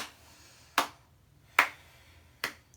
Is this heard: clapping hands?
yes